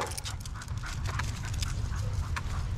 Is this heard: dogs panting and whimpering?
yes